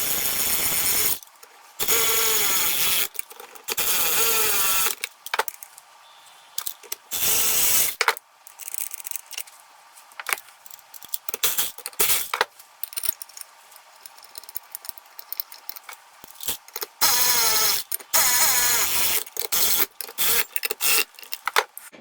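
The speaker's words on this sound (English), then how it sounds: "So we're going to take our ratchet here and get them on." A ratchet snugs bolts onto a 1982 Fiat 124 Spider cylinder head during a rebuild in quick bursts of clicking, with pauses and metallic handling noises in between, all close-up and without speech.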